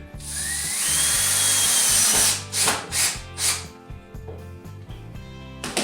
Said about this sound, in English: use a couple of 2-inch screws with fender washers to attach it.